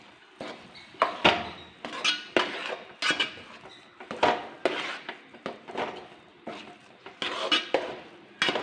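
Serving dish and utensils clinking and clattering after rava upma is cooked, a steady run of close, sharp knocks and scrapes of metal on metal over about nine seconds, with no talking.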